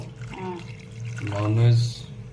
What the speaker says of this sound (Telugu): వాటర్ పోయి వేడి చేశారా?